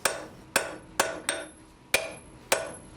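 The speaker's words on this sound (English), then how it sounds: "In this heat, I'm forging down the sharp corners of the hex bar." Hand hammer forging down the sharp corners of a hot hex bar on an anvil for a specialized hammer head: six sharp ringing metallic blows at an uneven pace, close and clear with no talk.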